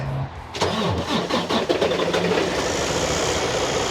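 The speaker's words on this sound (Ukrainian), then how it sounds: "Холодний старт, як і у всіх." A truck's Detroit diesel engine cold-starts up close: a brief crank, then it catches with a loud roar and settles into a steady, rough idle.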